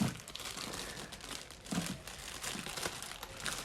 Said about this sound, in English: First, we'll rip the package.